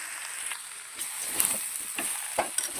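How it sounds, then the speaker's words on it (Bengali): Raw mango pieces frying in a pan, a steady close sizzle broken by soft scraping stirs and light taps at irregular intervals, no voices. "এইভাবে নাড়াচাড়া করে করে ভেজে নিচ্ছি আমগুলো"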